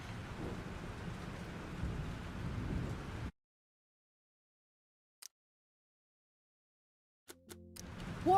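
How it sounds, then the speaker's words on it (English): Thunderstorm with rain in the video game Life is Strange: a dense, rumbling wash of rain and thunder that cuts off abruptly, followed by near silence with a couple of brief ticks and a faint return of sound at the end. "This storm is real."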